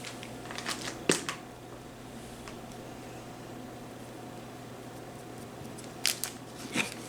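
Scissors snip garland material for a Valentine's craft wreath, a few quick close clicks near the start and a couple more at the end, quiet room otherwise.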